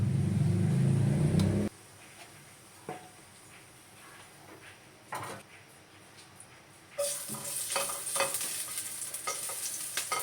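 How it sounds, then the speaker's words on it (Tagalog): Garlic and onion sauté in hot oil for a simple kare-kare, heard as a faint sizzle and light stirring clicks, then a louder, hissing sizzle that swells near the end. "Ating bawang at sibuyas. Igisa muna natin."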